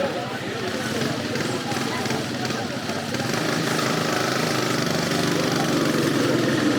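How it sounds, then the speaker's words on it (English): A motorcycle engine drives a makeshift rail cart on a jungle rail line in South America, running as a steady, close drone throughout with voices talking over it. "it's powered by this motorcycle in the back"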